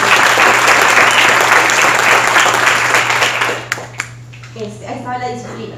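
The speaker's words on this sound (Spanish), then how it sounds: "Un aplauso para los dos." Loud audience applause at a talk on work rhythm, dense clapping for nearly four seconds that thins out and fades as a voice begins speaking over the tail.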